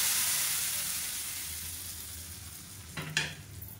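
Mustard seeds, cumin and curry leaves crackle and hiss in hot oil for a tempering, a steady close sizzle that fades slightly before a brief stirring scrape and a sharp burst near the end.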